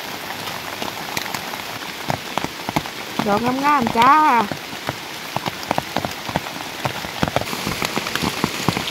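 Steady rain falls on a forest during a mushroom-gathering walk, a dense patter of drops on leaves with sharp close drips throughout, while someone speaks briefly over it.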